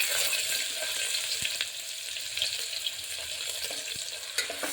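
Steady sizzling of about two spoons of cooking oil frying in a pan while making mutton sukka, a continuous close hiss with a few small pops and faint clinks.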